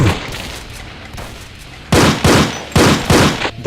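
Rapid shotgun blasts from a fast-firing Pro Shotgun Zombie in a Doom mod, three loud bursts in quick succession after a stretch of lower gunfire and game noise.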